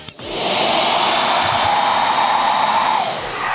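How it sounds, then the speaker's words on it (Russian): A hair dryer switched on and blowing hot air into a rubber balloon, a loud steady whooshing whine that starts abruptly and holds evenly before easing slightly at the end. "Включаем фен. Горячий воздух попадает в наш шарик."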